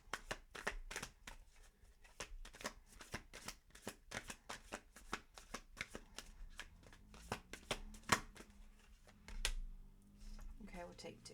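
Crystal tarot deck cards shuffled by hand, a close, steady run of rapid riffling clicks and flicks with a brief voice in the background.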